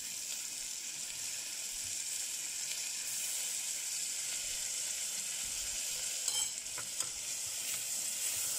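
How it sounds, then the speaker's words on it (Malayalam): Onion and chopped tomato sautéing in a pan, a constant moderate sizzle and hiss with a couple of faint utensil taps near the end, no speech. "വലിയ തക്കാളി എടുത്തിട്ട് ചെറുതാക്കി കട്ട് ചെയ്തിട്ട് അത് കൂടി ഇട്ടിട്ട് നമുക്ക് കുറച്ചൊന്ന് വഴറ്റാം"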